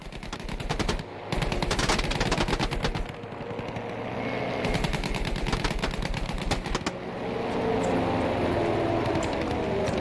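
A plane's gunner in Battlefield V fires long machine-gun bursts, rapid and loud, broken by short pauses over a steady engine drone.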